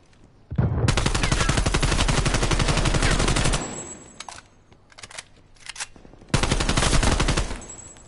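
Loud, sustained automatic fire in Call of Duty Prop Hunt: a long three-second burst, a few shorter scattered shots, then another heavy burst, all close and without voices.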